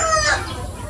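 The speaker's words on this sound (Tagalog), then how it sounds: "Ingay ng mga manok." Chickens clucking nearby in a yard, a short burst of squawky clucks over low background noise.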